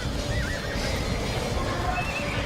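Horse whinnies and neighs from horse archers in a real-time strategy game battle, several calls over a dense, continuous bed of hoof clatter and battle noise, with no talking.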